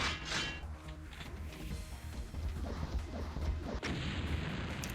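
Rocket launcher shots in multiplayer Doom, several dull thumping blasts and explosions in quick succession over constant game noise, fairly quiet overall.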